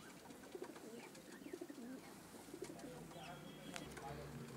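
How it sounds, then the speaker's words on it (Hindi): A pure-bred Pilanka pigeon coos softly in repeated low, throaty phrases, faint and close, while a person talks nearby. "प्योर नस्ल का कबूतर है ये, कलदुमा में है।"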